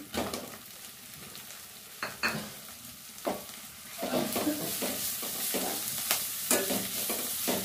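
Grated carrot fries in a pan, with a constant sizzle and repeated spatula scrapes and stirring strokes, close by and growing busier and louder partway through, with no voices.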